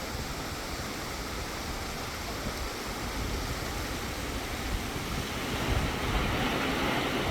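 Klamath River water rushing steadily past Klamathon Bridge, a continuous broadband wash of flowing current that holds a constant, fairly close level throughout, with no talking.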